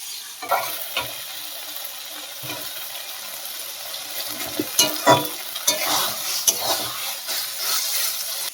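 Taro leaves with prawns and chickpeas cook down in a pan, giving a continuous sizzle with repeated scraping and stirring taps from a utensil against the pan.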